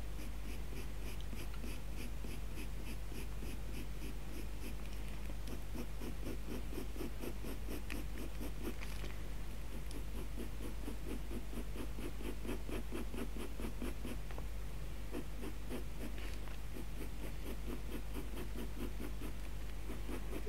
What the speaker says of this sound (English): Now I'm pulling this pencil round and really curving it over here.